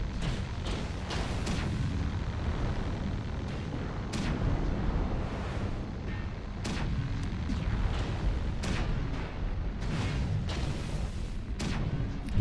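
Autocannon fire in a mech combat video game, with repeated heavy booming shots in irregular bursts over a dense, rumbling battle background.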